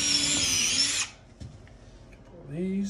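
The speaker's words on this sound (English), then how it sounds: "Now I'm just gonna drill me some pilot holes so I don't split the wood." A power drill whirs steadily while boring pilot holes into wood, running loud and close for about a second, then cutting off, followed by quiet handling noises and a brief voice at the end.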